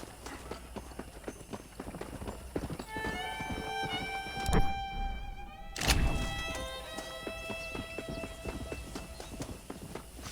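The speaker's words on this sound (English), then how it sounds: "I picked out a fine horse for you." Horse hooves clip-clopping in the video game Red Dead Redemption, a steady run of crisp, close hoofbeats over game music tones with a couple of heavier thuds.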